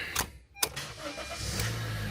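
A Honda Fit engine cranks and starts in a garage, with short bursts of cranking followed by a steady idle hum.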